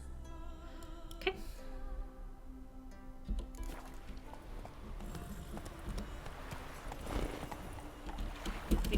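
Hooves of Roach, the horse in The Witcher 3, clop in a steady galloping rhythm under ambient game music and wind, continuing close and fairly even throughout.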